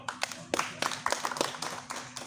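Scattered hand claps come from an audience at a panel discussion, sharp and separate, a modest and fairly quiet patter in a room, never building into full applause.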